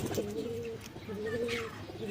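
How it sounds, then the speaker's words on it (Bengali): A pigeon coos close by as pigeons land: two drawn-out, throaty calls in quick succession, with a faint flutter near the end. "এই যে কনার কবুতরটা এই যে নামতেছে"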